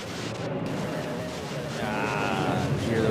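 Airliner jet engines roar during takeoff from runway 13 at Manila Airport, a steady, dense broadband rumble that swells slightly toward the end.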